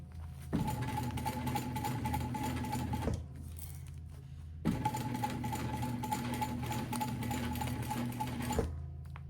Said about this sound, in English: One more back stitch.